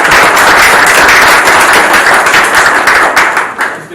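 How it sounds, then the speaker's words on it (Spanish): Loud, close applause from an audience at a business presentation, crisp individual claps standing out from a dense patter of many hands, steady for a few seconds and then starting to thin out. "Nuevamente un aplauso."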